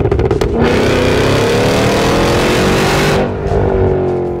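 A 2023 Cadillac Escalade V with a supercharged V8 revs hard, the loud close engine and exhaust climbing in a sustained roar after a few short blips, then easing off near the end.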